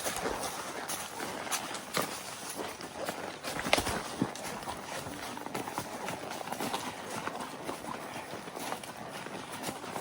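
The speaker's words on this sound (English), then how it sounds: "It's just pretty to see all those horses work down through these switchbacks." Horses on a Missouri trail ride working their way down switchbacks, with hooves clip-clopping in a busy, uneven patter from several animals, fairly faint, mixed with rustle, a few louder thuds and some faint background voices.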